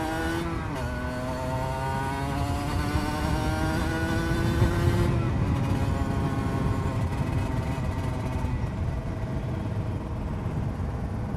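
Cagiva Mito two-stroke sport bike pulling hard under throttle, a loud buzzing engine note climbing through the revs, easing off, then droning on steadily while riding along twisty roads.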